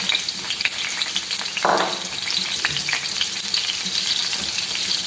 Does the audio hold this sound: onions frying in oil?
yes